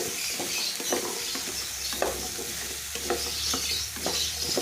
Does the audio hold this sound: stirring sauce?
yes